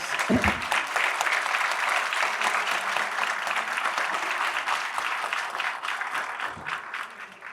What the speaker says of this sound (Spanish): lo están aplaudiendo de verdad allá